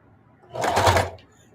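Sewing machine running a single brief burst of straight stitching through old jeans scraps, a close whirring rattle that starts, stalls and stops.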